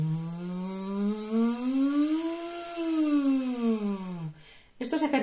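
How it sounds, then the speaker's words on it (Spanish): One voice performs a siren warm-up on a breathy F sound, a single slow sweep that climbs and then falls back, close and steady, ending in a brief noisy breath. "Sirenas con F o con Z, sacando ligeramente la lengua."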